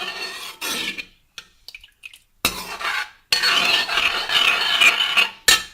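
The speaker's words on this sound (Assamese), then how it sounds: "অকণ সময় এনেকৈ লৰাম।" A spoon scraping and stirring vegetables with water in a pan, several bursts of rough rasping strokes separated by short pauses, close and fairly loud with no talk.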